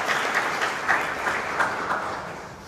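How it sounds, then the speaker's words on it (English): A crowd of wedding guests applauding the bride's entrance, dense continuous clapping with rhythmic swells, fairly close and loud, no one speaking over it. "Should we have a round of applause there for our"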